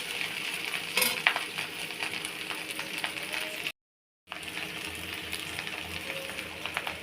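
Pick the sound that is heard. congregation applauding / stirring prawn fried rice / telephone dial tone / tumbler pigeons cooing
stirring prawn fried rice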